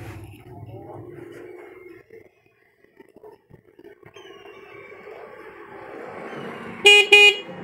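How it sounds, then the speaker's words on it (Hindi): A repaired car horn in an auto mechanic's workshop gives two loud, close honks near the end, following quiet shop noise and low talk. "ये आप देख सकते हैं कि हॉर्न जो है बज गया।"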